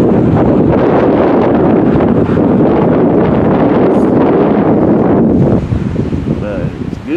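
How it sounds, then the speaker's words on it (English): Strong wind gusts buffet the microphone in a canyon near a dam, a loud steady rush throughout that eases near the end, with a voice briefly audible. "Well, it's late. It's getting breezy."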